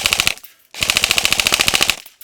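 An airsoft gun fires two full-auto bursts, a short one and then a longer rapid string of sharp, evenly spaced snaps, close and loud with a brief pause between them.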